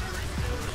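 Steady rain hisses across the whole moment in the game Hunt: Showdown, a dense even wash with a soft low thump near the middle.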